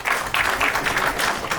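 Audience applause at a live Marathi stand-up comedy show, a steady wash of clapping from a crowd that swells in repeated bursts, fairly loud and continuous, with no talk over it.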